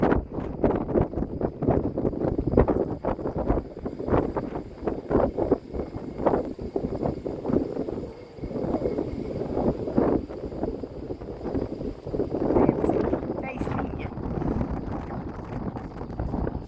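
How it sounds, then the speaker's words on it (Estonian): Gusty wind buffets the microphone at a sea view observation tower in Kenting National Park, a steady close rumble with stronger surges throughout. "Tuulekest ka."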